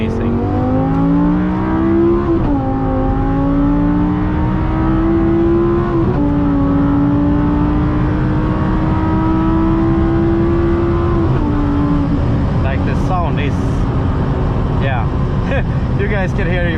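An Audi R8 V10 engine revs loudly and steadily, pitch climbing and dipping through gear changes, continuous and close.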